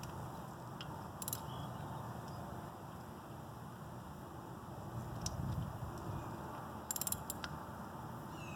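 Ratchet clicking in short bursts while tightening the oil filter cover nuts on a 2023 Suzuki S40 Savage motorcycle, faint and close against steady background hiss, with no talking.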